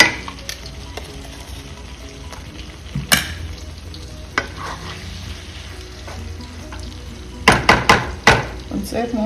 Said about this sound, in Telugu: వంకాయలు చెదరకుండా జాగ్రత్తగా కలుపుకోండి. పసుపు అన్నీ వేసేస్తాం మనం ఇందులో.